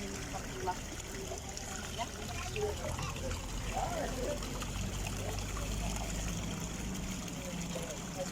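Natural spring water flowing outdoors along the road to Meknes, a continuous gentle trickle and splashing heard beneath someone talking.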